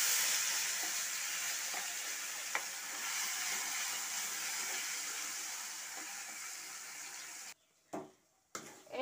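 Ground bean paste dropped into a black cumin tempering in hot oil, giving a steady, close frying sizzle and hiss that runs on evenly and then cuts out abruptly near the end.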